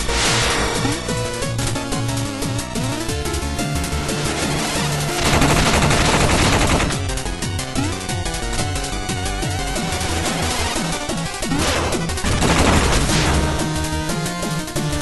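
Retro-style gunfire blasts from the video game Shovel Knight rip through a breaking floor, dense and loud throughout with bursts swelling in rapid volleys, over game audio and without speech.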